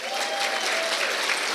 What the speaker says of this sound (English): Let's give a warm round of applause for Ann Logan Mueller.